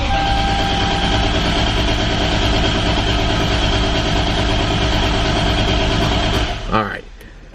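A Toyota Supra engine cranks and turns over steadily with a dense mechanical drone for most of the stretch, then cuts out abruptly near the end, leaving a quieter tail.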